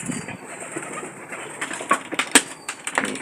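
Pigeons in a farm loft, soft low coos repeating close by, mixed with occasional wing flutters and scuffs and a thin high whine in the background.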